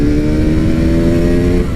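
A TVS Apache motorcycle engine revs in a loud, close, steady drone that eases off slightly at the very end.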